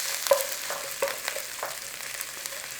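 Fresh ginger and chilies frying in hot oil with popped mustard seeds for vada pav chutney, a close steady sizzle punctuated by a few sharp spatula scrapes and taps, no voices.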